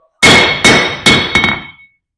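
A hammer strikes a bolt on an anvil during blacksmith forging: four bright, ringing metallic blows, the last two quick with a rebound, each leaving a short ring, close and loud.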